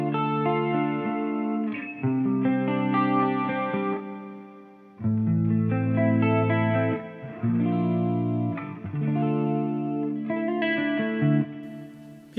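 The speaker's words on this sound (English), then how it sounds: "It's got a really, really big reverb on it." Electric guitar chords ring out through a Zoom 505 effects pedal set to a very large reverb, played in several strummed phrases with short pauses and long, washy tails.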